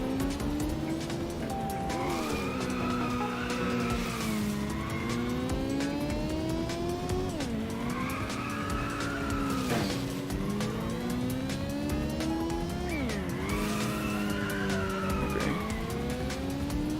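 In the Inertial Drift racing game, an engine revs up and down steadily while tires squeal through long drifts, with the pitch sweeping in repeated arcs. The sound is loud and continuous, and no one speaks.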